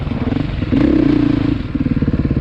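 A 2020 Beta dual sport motorcycle on a demo ride gives a steady, loud engine drone that swells into a stronger pull midway, then settles into a throbbing rhythmic thrum. No voices are heard.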